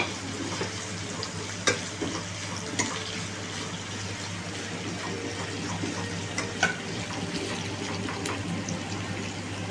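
Thinly sliced onion, capsicum and chilli fry in a pan, producing a steady, even sizzle and hiss with a few soft clicks of stirring scattered over it and no speech.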